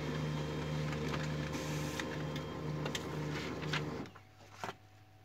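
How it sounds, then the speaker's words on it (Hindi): An HP LaserJet 3055 MFP printer feeds paper with a rhythmic, close mechanical tak-tak and a pulsing whir, then it stops abruptly and a few light clicks follow. "जब पेपर दिया जाए तो उस टाइम ये टक टक इसमें से ये आवाज़ आती है।"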